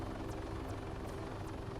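Helicopter in Arma 3 flying at low level, its steady rotor thrum and whine droning continuously at close range with no talk over it.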